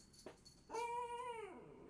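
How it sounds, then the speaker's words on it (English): A dog whimpers briefly, then lets out a drawn-out, faint tonal howl lasting under a second, close but quiet, after hearing another dog bark. "He heard another dog bark somewhere, and he's like, I'm a dog too. Woof woof."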